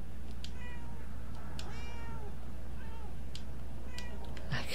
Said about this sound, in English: I can make the cat meow.